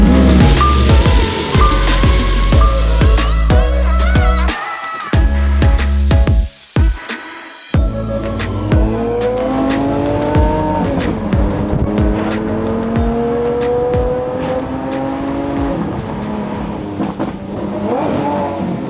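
Lamborghini Aventador engine running loud and close throughout, with rising and falling revs as the car accelerates and shifts, a brief drop near the middle, then sustained climbing engine tones.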